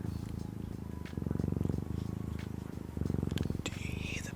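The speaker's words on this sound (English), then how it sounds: "Do you hear the purrs?" A cat purrs close to the microphone, a steady rhythmic rumble that swells louder in two longer bursts, with a faint whispering voice and a few small clicks around it.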